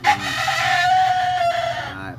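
A rooster crows in one long, strained call close by, with hens clucking faintly underneath, as free-range chickens are given water.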